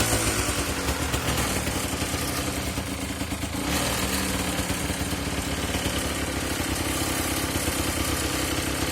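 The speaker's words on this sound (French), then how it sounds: "Il n'y a rien à dire sur le moteur, c'est vraiment une moto qui tourne." An old Kawasaki KMX 125 motorcycle engine idles nearby with a continuous buzzing, pulsing drone and a slight dip in level partway through.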